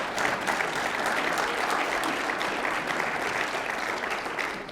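A church congregation applauds during a sermon, a dense, steady roar of clapping that holds evenly for about five seconds with no break.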